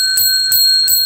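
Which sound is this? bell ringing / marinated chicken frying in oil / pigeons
bell ringing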